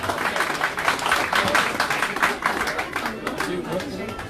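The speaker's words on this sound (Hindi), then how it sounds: "तालियां तालियां तालियां।" A crowd claps steadily for the dholak players at a folk song competition, with dense, continuous applause and background chatter throughout.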